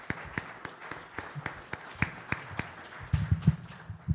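A small audience at a sustainability conference session applauds its panel, sparse individual claps spaced out across the moment, fairly faint, with a few low thumps and murmurs near the end.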